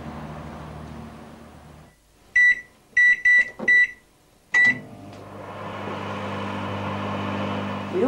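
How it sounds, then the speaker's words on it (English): A household microwave oven: steady low hum, then several sharp, loud completion beeps in quick succession (about five), after which the hum of running resumes close by. "A microwave oven."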